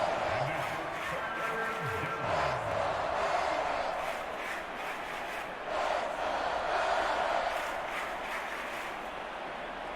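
Stadium crowd in the Madden 23 football video game during a Commanders versus Lions matchup, a broad roar of cheering that swells and dips ahead of a big third down, with a commentator talking over it.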